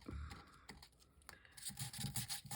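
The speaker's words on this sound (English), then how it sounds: "now you can take your little sanding tool" Dry scratchy rubbing of a small sanding tool across a damp printed photo, in short uneven strokes that grow busier and louder toward the end.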